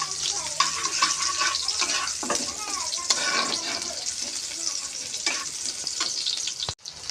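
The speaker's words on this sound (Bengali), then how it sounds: "এই দেখো, আমি শুটকিটাও দিয়েছি, এখন শুটকিটা ভাজতেছি।" Dried fish (shutki) frying in a pan with a steady bright sizzle and occasional stirring scrapes. Someone talks over it, and the sound briefly cuts near the end.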